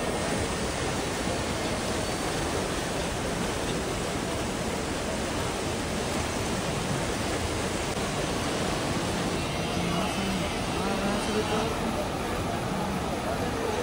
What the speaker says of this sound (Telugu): కనిపిస్తుంది ఇది అలకనంద రివర్.